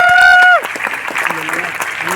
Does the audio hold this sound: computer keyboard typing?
no